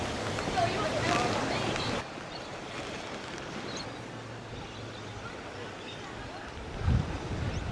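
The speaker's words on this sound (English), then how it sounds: "It's quite windy today" Wind gusting across an exposed pier at Urangan in Hervey Bay, a steady broadband rush buffeting the microphone, heavier in the first two seconds and with a low thump near the end, with faint talk mixed in.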